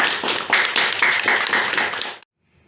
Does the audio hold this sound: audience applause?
yes